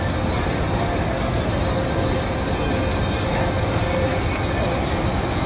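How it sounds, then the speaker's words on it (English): A train drawing into Fullerton station at night, a steady, loud broadband rumble with a faint high whine above it, unbroken throughout. "We'll see as this train gets closer."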